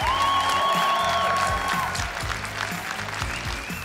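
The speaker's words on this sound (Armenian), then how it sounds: "ուզում եմ բարձր ծափարենք մեր աղջիկ հետ" A television contest audience applauds a contestant at a finals round, steady, full clapping from a crowd with a tonal musical sweep over it early on.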